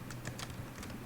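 Keys tapped on a computer keyboard while entering a value, a quiet run of irregular clicks with a few louder strokes over a low background hum.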